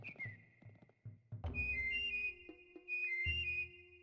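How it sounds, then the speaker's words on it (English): Whistling in the video game Oddworld: Abe's Oddysee, a series of clear, sustained high whistled tones with pitch glides, set over low game rumble and short thuds, loud and close. "Okay, whistling."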